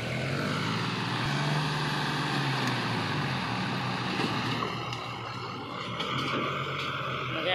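Three tractors strain together to drag a heavy log out of dug-up ground, a continuous loud, droning engine roar with deep low rumble that holds steady throughout, close by.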